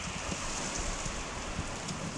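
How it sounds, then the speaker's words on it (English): Heavy rain pours steadily just outside an open garage door, a dense, even wash of patter and hiss that continues without a break, no voices. "Wow, look at that rain"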